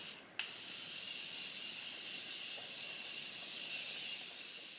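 A long, continuous misting hiss of Morphe Continuous Prep Set Mist Plus setting spray being sprayed close by, steady for several seconds after a brief opening burst.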